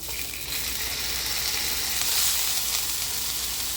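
A thin steak sears in ghee in a cast iron pan with a dense, bright sizzle that swells slightly midway, steady and close, with no voices.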